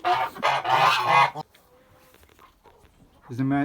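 Muscovy ducks and a drake being weighed before sale give honking, goose-like calls in loud bursts at the start and end, with a quieter gap between and a voice speaking nearby.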